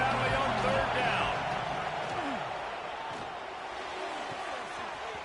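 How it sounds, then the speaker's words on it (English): A big college football stadium crowd in Happy Valley roars on third down, a dense, loud, sustained wall of noise that eases slightly toward the end, with a commentator talking over it. "Here comes the noise from this big crowd in Happy Valley on third down"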